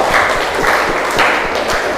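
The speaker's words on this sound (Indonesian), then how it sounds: "kasih tepuk tangan untuk dia" A classroom group applauds a student's correct answer with steady, rhythmic clapping, loud and close, repeating roughly twice per second.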